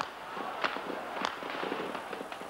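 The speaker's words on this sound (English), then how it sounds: "The noise of gunfire rose from all over the center of Peking." Scattered gunshots crack out at irregular moments across central Peking, each a sharp distant report over a murmuring background.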